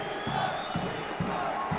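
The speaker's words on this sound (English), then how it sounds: "this crowd in the Karen Demirchyan Sports Complex in Yerevan, very happy with that one" Arena crowd at the Karen Demirchyan Sports Complex in Yerevan during a judo light heavyweight bout, a dense steady roar of cheering voices with rhythmic thumps like clapping or stamping roughly every half second, loud and continuous throughout.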